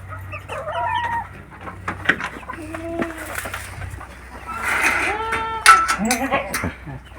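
Goats bleat and chickens cluck in a small elevated farm shed with a wooden plank floor, several overlapping calls near and far, with a rooster-like cry and low background noise.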